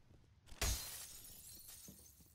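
Glass breaks in the shooter game F.E.A.R., one sharp close shattering crash followed by a tinkling tail of falling shards, fairly quiet overall, with a faint second clink near the end.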